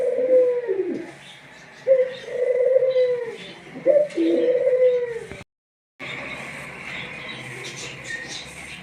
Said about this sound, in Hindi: ये देखें डव भी आवाजें निकालता।